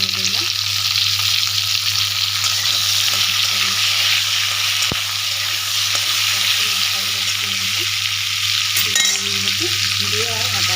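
Green chillies and tomatoes fry in a pan with a loud, steady sizzle that runs throughout. A low hum sits beneath it, and the sizzle briefly intensifies near the end.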